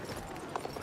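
Horse hooves clip-clopping in the video game Battlefield 1, a quick run of muffled steps over a dense wash of game noise, with a voice briefly nearby.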